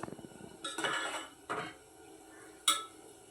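A spoon stirs sago payasam in a metal pot, with a handful of clinks and scraping swirls in uneven bursts, close by and moderately loud.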